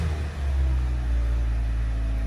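A 2017 Hyundai Elantra, just fitted with new VVT oil control valves for a P0017 fault, idles with a steady low engine rumble, close and unbroken after a brief dip at the start, with no talking.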